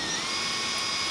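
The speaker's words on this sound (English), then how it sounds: "Just let the drill bit do the work" A power drill drilling through sheet metal whines steadily at high pitch, a continuous bright mechanical buzz, close and fairly loud with no talking.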